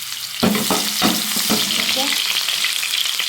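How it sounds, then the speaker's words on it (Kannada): Onions dropped into hot oil for a fish gravy burst into sizzling, followed by a steady frying hiss with spatula stirring scrapes; a brief word is spoken over it. "ಎಣ್ಣೆಗೆ ಈರುಳ್ಳಿ ಹಾಕ್ತಾಯಿದ್ದೀನಿ"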